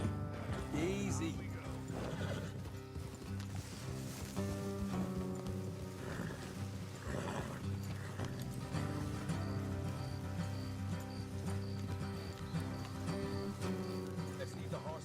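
Horses whinny and hooves clip-clop in Red Dead Redemption 2, with rain and other game sounds in a dense, steady mix and talk from game characters over it.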